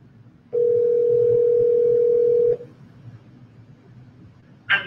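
A steady telephone dial tone from an auto-dialer during cold calling, loud and continuous for about two seconds before cutting off, followed by a brief electronic blip.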